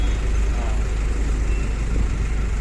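Engine of a quick challenger water-suction pump vehicle running steadily after starting, a dense, continuous low rumble with a broad mechanical hiss, close and loud with no change in pace.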